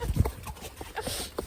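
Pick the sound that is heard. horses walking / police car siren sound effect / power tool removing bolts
horses walking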